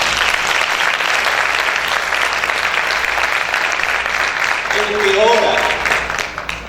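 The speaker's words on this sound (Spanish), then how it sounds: "Vamos a aplaudir fuerte al Señor." A church congregation claps hard and steadily through a fasting service, the dense applause filling the room at close range before a few voices rise over it near the end.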